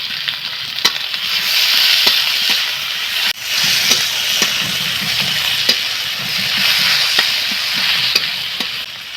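Onions and tomatoes fry in a pan with a constant close sizzle, while a utensil scrapes and taps against the pan at irregular intervals as they are stirred.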